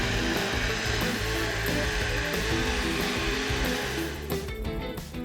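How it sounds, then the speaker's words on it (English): A blender whirs steadily at high speed, close and loud, as it blends almonds and water into almond milk, then winds down and stops near the end with no talking. "And we're just going to blend this until it's quite creamy and lighter in colour."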